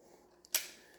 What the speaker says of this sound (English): Okay, so you take your bolt and slide it in.